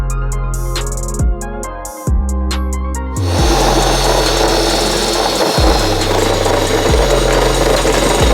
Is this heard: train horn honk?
no